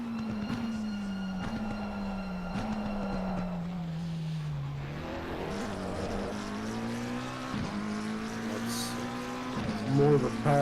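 A McLaren 720S GT3 Evo racing car engine in Assetto Corsa Competizione, during an endurance race at Bathurst, roars steadily, its pitch climbing and dropping repeatedly through gear shifts, with a faint voice underneath.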